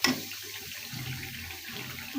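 Water is poured into frying masala in a pan while cooking pigeon curry, a short splash and steady hissing sizzle, close and moderately loud, with no voices.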